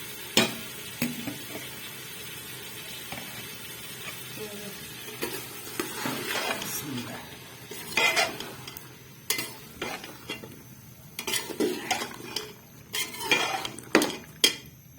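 Potatoes, carrots and fenugreek leaves are stir-fried in a pot over a low, steady sizzle. Repeated scrapes and metallic clanks of a spoon against the pot come in irregular bursts.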